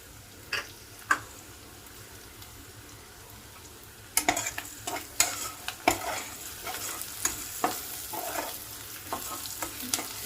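Onion and ginger frying in oil for an egg curry, stirred with scattered utensil clacks and a steady light sizzle; quiet at first, then busier scraping and stirring strokes.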